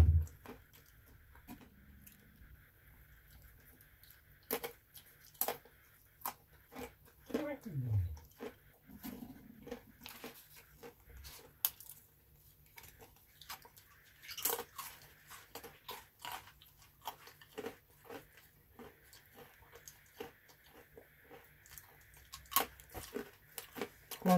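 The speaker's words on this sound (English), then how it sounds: "Going to chew an old stick." A dog gnaws on an old stick outdoors, producing scattered crunches, snaps and crackles at irregular intervals, fairly close against a quiet background.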